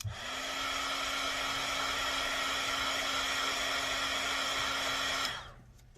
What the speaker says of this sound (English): And I'm gonna take my dryer.